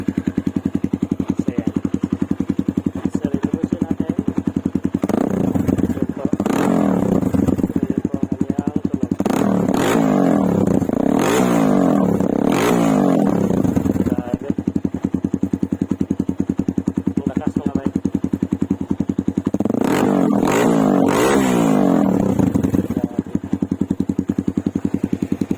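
A Yamaha XR200 motorcycle with an open pipe exhaust idles with a loud, rapid, rough thump and revs sharply in several bursts, close by, with someone talking over it at times.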